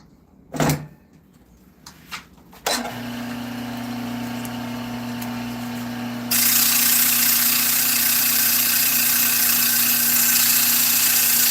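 A wood lathe spins steadily while the interior of a turned bead spinner is sanded, with a few knocks at the start, then a constant tonal hum joined by a louder hiss of sanding, close and without talking.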